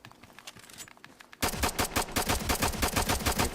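Rapid automatic fire from an ACR rifle on a Ghost Recon firing range, loud bursts of evenly spaced shots starting abruptly after a quieter stretch and continuing steadily to the end.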